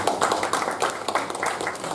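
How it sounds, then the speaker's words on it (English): Audience applause at a speech evaluation meeting, a steady patter of many hands clapping at moderate loudness for about two seconds with no talking. "I request everyone to give a big round of applause."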